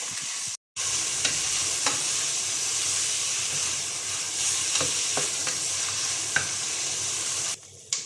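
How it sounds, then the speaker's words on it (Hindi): Medium-size sliced onions sizzle in oil over a medium flame while being stirred for a Bihari mutton karahi, a steady close hiss broken by occasional scrapes and clicks of the spoon, with no talking. "मैं प्याज को मीडियम फ्लेम पर फ्राई कर रही हूँ।"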